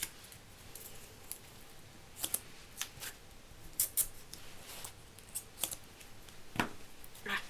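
Scissors cutting through layered card for a Valentine's card craft, a series of quiet crisp snips and clicks scattered irregularly, close and faint, with no talk.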